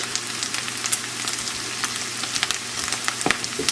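Olive oil sizzles steadily as it is spread across a hot pan for migas, a continuous close frying hiss with small crackling pops throughout.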